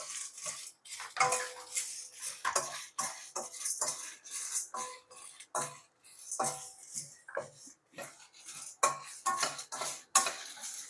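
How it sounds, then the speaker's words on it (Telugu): Dry red chillies being roasted in a pan for flaxseed spice powder, heard as repeated scraping and clinking of a spatula against metal in irregular bursts, close and moderately loud with no talk. "నెక్స్ట్ ఎండుమిరపకాయలు కూడా వేసి వేయించుకున్నాం"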